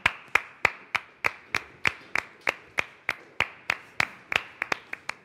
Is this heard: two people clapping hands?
yes